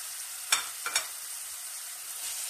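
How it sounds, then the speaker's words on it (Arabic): Meat being stirred with onions frying in a pan: two quick scraping stirs stand out over a steady, close sizzle. "نحرك تو ونخلي اللحم هذايا يتبلى مع البصل"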